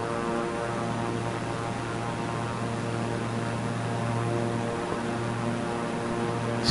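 A propeller aircraft engine at full throttle in Microsoft Flight Simulator 2024, a steady loud droning hum with layered harmonic tones, unchanging throughout during a climb over hills.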